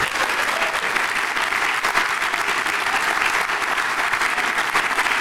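A crowd applauds steadily, dense clapping that stays loud and even throughout, with no talking over it.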